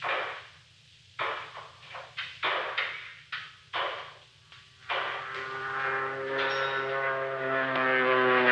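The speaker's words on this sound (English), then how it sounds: "It isn't the mail plane. It's a small job, listen. Flying low, too." A small propeller plane drones overhead, its hum rising and steadying after some clunks and knocks, growing louder as it passes low.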